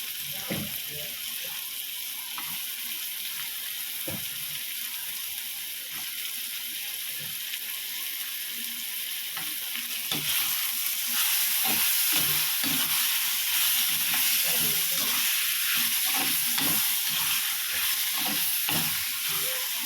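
Soaked, boiled double beans are added to a pan with tomato and fry with a steady sizzle that grows louder partway through, while a spoon scrapes and knocks against the pan in irregular strokes.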